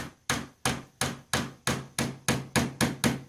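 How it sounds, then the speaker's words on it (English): A hammer lightly taps an axle into place on a small solar car, about ten crisp, evenly spaced knocks, close and clear with no talking. "with a hammer just lightly, I'm just going to tap the axle down"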